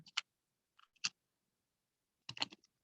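Several bursts of computer keyboard typing, short clicky key presses in small clusters with pauses between, close and fairly quiet with no talking.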